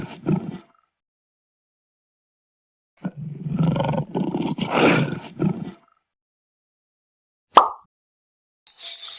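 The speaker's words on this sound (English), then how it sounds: "lion," A lion roars in two loud, growling bursts close up, followed by a short sharp thump and a brief snarl, with silent gaps between.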